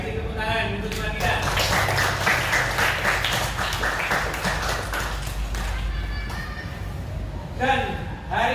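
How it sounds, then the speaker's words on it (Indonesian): A classroom of children applauds a classmate during a fourth-grade Islamic religious education lesson, dense sustained clapping swelling for several seconds before fading, with a voice over the start and end. "Iya, kasih tepuk tangan untuk teman kita."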